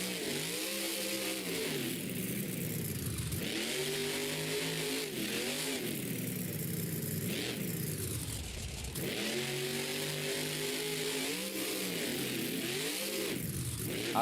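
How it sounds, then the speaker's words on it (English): Gravedigger monster truck at a Monster Jam show in Berlin, its big engine roaring in long, repeated rev cycles that rise and fall in pitch, loud and close with no talk over it. "next up we have Gravedigger Charlie Pocken"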